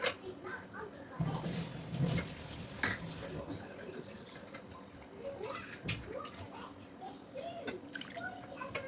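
Water splashes and swishes in a pot as lentils are rinsed, with stirring and sloshing sounds nearby and a voice murmuring faintly.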